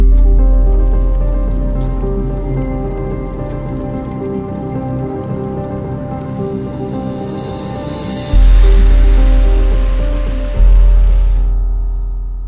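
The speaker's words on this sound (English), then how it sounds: "Raining even harder than it was yesterday." Heavy rain pours steadily in Afghanistan, a dense continuous hiss that swells louder near the end, with no talking.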